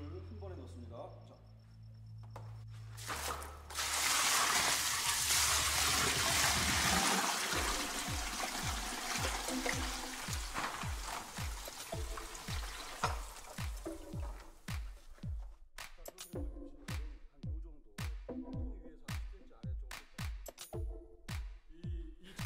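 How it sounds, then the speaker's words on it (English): Fifty liters of water are poured all at once while making a JADAM sulfur germicide. A loud rushing burst gives way to a long series of rhythmic gulping splashes that gradually thin out. "Pour all the water at once."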